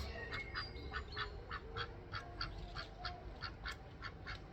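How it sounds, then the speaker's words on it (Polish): A duck quacks in a rapid series of about a dozen nasal calls, fairly close, over a low background rumble, with no talking. "kaczuszką przykwakającą"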